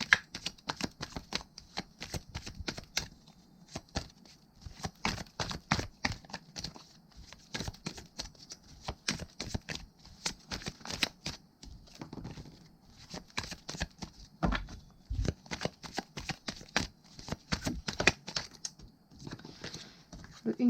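Tarot cards are shuffled over and over for a July 2021 Leo reading, a dense, close patter of riffling and snapping cards in uneven bursts, with no voice.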